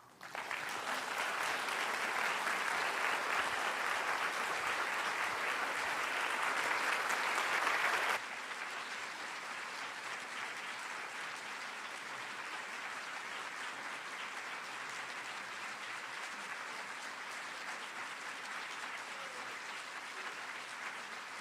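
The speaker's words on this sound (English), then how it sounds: "The applause speaks of our appreciation." An audience gives sustained applause after a spirituality lecture, a dense wash of clapping that swells for several seconds, then drops off abruptly and goes on more quietly.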